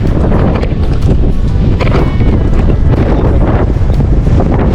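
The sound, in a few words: strong wind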